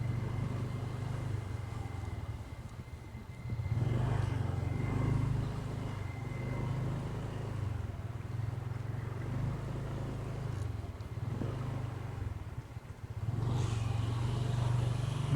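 A car drives along a bumpy, uneven road with a steady low engine drone and rolling road noise that swells and dips, passing motorcycles nearby in the background.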